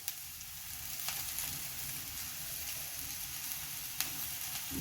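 Cut okra sizzles and crackles steadily in a hot pan of oil, a soft, constant frying hiss with a few faint stirring clicks.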